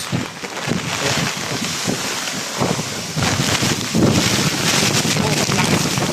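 Strong, gusty typhoon wind roars steadily into the microphone, buffeting it hard throughout, with faint voices partly buried under the rush.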